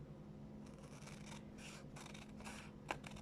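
Sharp scissors snip through paper while fussy-cutting card pieces, a soft close series of brief rasping cuts in quick succession, quiet and alone.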